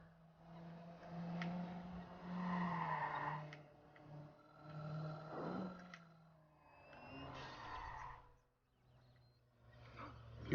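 A car in the video game Watch Dogs drives and skids, with engine drone and repeated squealing tire skids swelling and fading in bursts, fairly loud and without talk.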